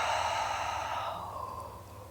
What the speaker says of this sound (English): instead of exhaling, you're going to yawn